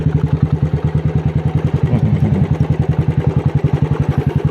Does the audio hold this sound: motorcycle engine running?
yes